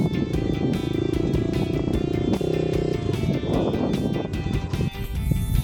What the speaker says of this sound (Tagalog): Bali nagmotor na nga lang kami dito kasi nga napakalayo.